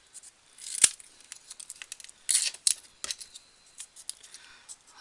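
Scissors snipping a small piece of cardboard for a children's Easter planter craft: a series of close, crisp cuts and rustles, some sharp single snips and a few longer scraping strokes with quiet gaps between.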